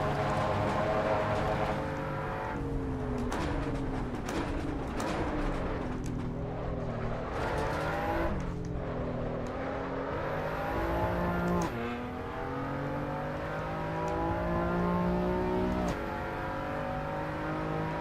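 A Toyota GR86 in Assetto Corsa Evo laps Laguna Seca in reverse, its engine droning and climbing through the revs, dropping on shifts and braking, then winding up again, continuous and close.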